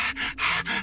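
Human panting sound effect in the party game Earwax: three quick rhythmic breathy pants, close and breathy, heard alone with nothing else in the background.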